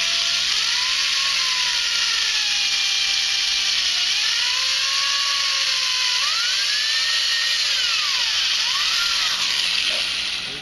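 A high-pitched drill whines continuously, its pitch rising and falling as it bites into wood for a flute, close and loud without speech.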